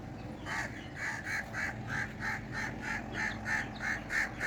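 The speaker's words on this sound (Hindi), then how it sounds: "परिंदे चहचहा रहे हैं। कौवे, हमारे पास ट्री है, ये कौवे उस पे अपना घोंसला बनाए हुए हैं" Birds call from a tree where crows are nesting, a steady series of repeated harsh, nasal calls at an even rhythm, moderately distant and faint over soft outdoor ambience.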